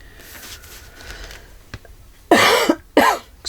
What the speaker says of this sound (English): Did not mean to cough.